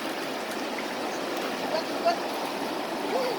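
Floodwater rushes through a creek, a steady close broadband wash of flowing water with faint splashes and voices occasionally surfacing beneath it.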